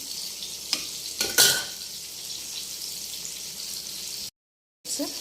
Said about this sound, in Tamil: இங்கே பக்கத்தில் மீனும் ஃப்ரை ஆகிட்டுருக்கு